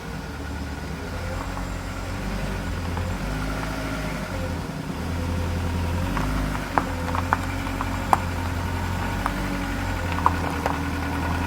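A VW Golf Mk4 engine idles and runs at low revs with a steady mid rumble, close by, as the car is driven out of a garage, with a few sharp clicks and knocks near the end.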